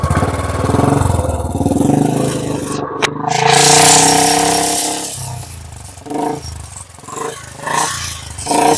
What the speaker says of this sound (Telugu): ఒకసారి ఇంజిన్ కూడా మీకు స్టార్ట్ చేసి చూపిస్తాను